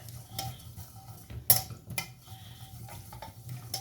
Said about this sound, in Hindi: इसमें आप अदरक लहसुन पेस्ट 1 टीस्पून लिया मैंने, ठीक है। इसको अच्छी तरह भूनना है।